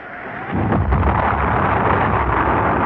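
A rocket lifts off in a radio drama, a deep, roaring rumble that swells after a brief lull and holds loud and steady, like thunderous continuous blast noise with no voices.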